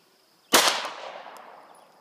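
One sharp report from a Glock 26 pistol fired at a shooting range, loud and close, with a hard crack and a reverberant tail that fades over about a second and a half.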